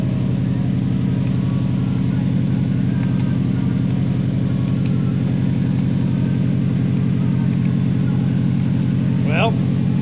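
A Subaru STI with a 20G turbo runs with a steady, loud, low engine drone from inside the car. A brief whistle-like sweep comes near the end, and a voice talks over it.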